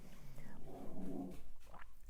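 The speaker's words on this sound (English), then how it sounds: "She has a yodel when she barks." A dog vocalising with a yodel-like, wavering bark-whine, a couple of short rising and falling calls close by at moderate volume.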